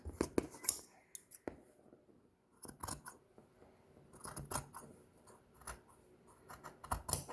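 Fabric shears trimming the seam allowance of a sewn tote bag: a series of crisp, close snips in irregular bursts separated by short quiet gaps, with no voices.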